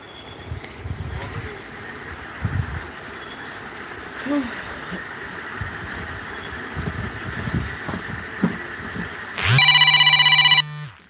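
A telephone rings out loudly near the end of a live stream, a steady electronic ringtone that breaks in over a background of low murmuring and talk.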